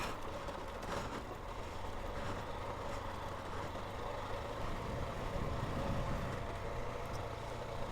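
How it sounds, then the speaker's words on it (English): An adventure motorcycle engine braking on a dirt descent along the Colorado Backcountry Discovery Route, a low steady rumble with constant road and wind noise, no speech. "Let the engine braking do some of the work."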